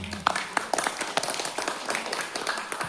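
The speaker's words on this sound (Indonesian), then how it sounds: "Kita beri tepuk tangan gitu." Congregation at a worship night clapping together, a dense spread of overlapping hand claps with a few sharper individual claps standing out, steady and moderately loud for a few seconds.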